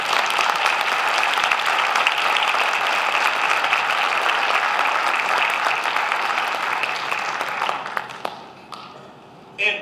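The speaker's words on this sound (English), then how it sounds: "one more round of applause for all the performers down there" Sustained applause from a school winter band concert audience, dense and steady for about eight seconds before thinning out, with a brief burst of clapping at the very end.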